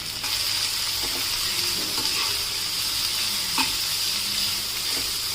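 Sliced onions fry hard in a pan with green chilies and curry leaves for egg lababdar, giving a loud, steady, close sizzle broken by a few faint clicks of a spoon stirring.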